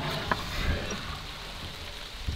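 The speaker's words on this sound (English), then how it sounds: "That right there is the sound of rain." Soft, steady rain patter with a faint hiss, quiet and continuous, with a few scattered drip sounds.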